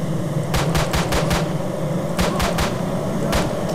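Gunshots in the game STALKER Lost Alpha, several quick bursts of sharp cracks in groups of three or four with short pauses between, heard over a low steady background hum.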